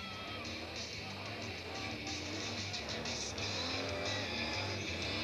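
A big block engine roars steadily during a car tire burnout at a 1998 Rebels Club event, with sustained tire squeal and skidding hiss over a dense, loud crowd-and-engine din.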